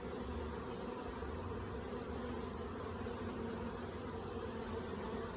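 A honey bee swarm with three queens moves into a hive, a dense, unbroken buzzing drone of many bees at a steady, moderate level with no pauses.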